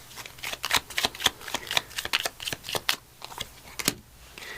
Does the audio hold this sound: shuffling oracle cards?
yes